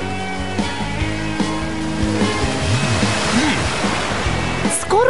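Cartoon water splash effect in an animated angel adventure series, a broad rushing whoosh of water running throughout, loud and steady, with voices talking over it.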